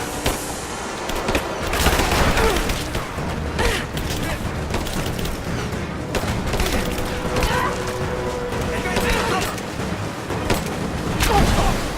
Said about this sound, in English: Give it suppressing fire!